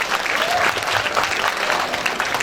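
Audience applause at a school civic education session in Jakarta, a dense steady clapping that fills the whole short stretch at even loudness with no voice over it.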